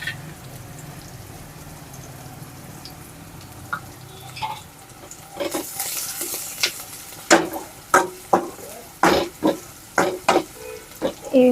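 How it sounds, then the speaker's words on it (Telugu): Something fries lightly in a pan while a spatula stirs it, with gentle sizzling that swells midway, then a run of distinct scraping and clattering strokes, close and clear. "ఇది కొంచెం లైట్గా ఫ్రై అయిపోయిన తర్వాత ఎల్లిపాయ అయితే వేసేసుకుంటున్నాం."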